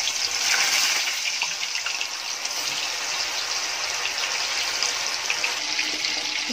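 Chicken kebab pieces frying in hot oil, a steady, loud, broadband sizzle and hiss that holds continuously throughout without pauses or talk.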